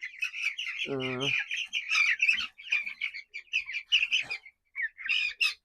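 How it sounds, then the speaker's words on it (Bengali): Brahma chicken chicks cheep in rapid, high-pitched bursts close by, with a brief spoken voice near the start among the chirping. "এই যে আরেকটা মুরগি বাচ্চা"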